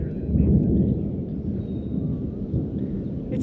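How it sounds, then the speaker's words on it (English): Low, rumbling thunder from a summer thunderstorm near the mountains rolls on steadily for the whole stretch, a deep sustained roar with no speech over it. "I love summer thunderstorms."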